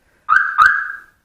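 A smart car security system's alarm goes off, two short, loud, close electronic chirps in quick succession, the second trailing into a fading tone.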